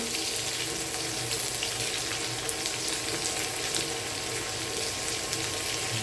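Vegetables and pork sizzle in a hot pan with a steady, loud, dense frying hiss that fills the whole stretch without pause and with no voices over it.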